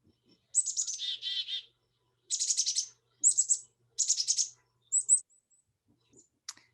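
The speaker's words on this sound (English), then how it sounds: "So here's our chickadee first." A black-capped chickadee calls alone in quiet: several short bursts of high, buzzy chick-a-dee notes separated by pauses.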